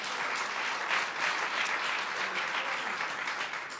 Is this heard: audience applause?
yes